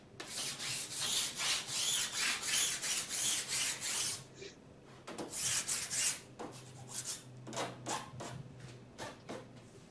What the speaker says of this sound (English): The edges on both sides are filed down